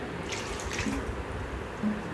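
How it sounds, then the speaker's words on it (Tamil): Water, one and a half tumblers, poured into a cooking pan for rava kichadi, a continuous nearby splashing trickle with small fluctuations throughout. "அதனால் ஒன்றரை டம்ளர் தண்ணி நான் ஊற்றுறேன்"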